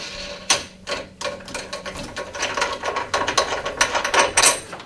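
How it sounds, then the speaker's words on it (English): Orange plastic wing nuts being unscrewed from the handle of a Hyundai-powered P1PE P4600SP lawn mower, giving a close series of quick ratcheting clicks and light plastic knocks that thicken toward the end. "you'll see these orange plastic wing nuts. So we need to remove both of those."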